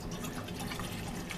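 About six ounces of water poured for cooking on a small Altoids tin stove, a faint, steady trickling and splashing under low background hiss.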